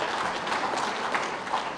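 A large crowd at a political rally in Jharkhand applauds for the mandal president, dense continuous clapping that holds loud and even from start to finish.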